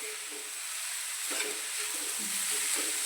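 Green chilies sizzling in oil in a frying pan, a steady close hiss and crackle with faint stirring scrapes.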